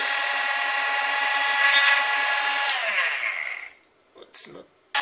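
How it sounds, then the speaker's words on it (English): A small Dremel-type rotary spinning tool welds plastic while building a DIY electric kick scooter. It gives a loud, close, high-pitched whine for about four seconds, then winds down and stops, followed by a few faint clicks. "plastic welding. So I'm using my, what do you call this? Kind of Dremel, but it's not Dremel."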